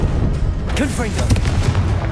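A Confringo fire-blast spell goes off in Hogwarts Legacy, a loud low booming burst with rumbling echoes and a few rising whooshing tones, heard up close over continuous game noise.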